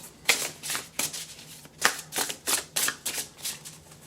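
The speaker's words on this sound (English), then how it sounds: "We're going to shuffle." Oracle cards are shuffled in a quick series of crisp riffling bursts, close and fairly soft, with brief pauses between them.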